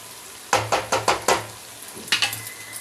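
Garlic frying in oil for an amla thokku while being stirred, heard as a run of sharp spoon knocks against the pan over a low sizzle, a quick burst of four or five, a pause, then two more.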